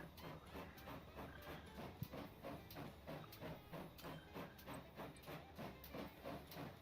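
A train in the game Transport Fever 2 rolls along with a steady rhythmic chuff and clatter, evenly pulsing and fairly faint, with a single sharp click partway through.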